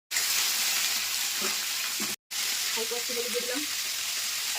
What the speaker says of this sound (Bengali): চলো এবার সবজিগুলো তেলেতে দিয়ে দিলাম।